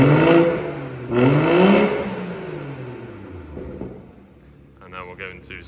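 A 335 bhp BMW M240i two-door with a 3.0 engine warming up in comfort mode: two loud revving surges early on, then a smooth, fading engine hum that settles toward idle.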